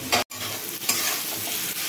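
Tomato, onion and potato frying in a pan on a home kitchen stove, a continuous close sizzle with stirring scrapes and a brief break near the start.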